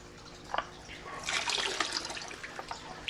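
Water and minnows dumped from a cup at a farm pond in Kingman, Kansas: close splashing and trickling pours with a few sharp drips, rising to a fuller splash in the middle.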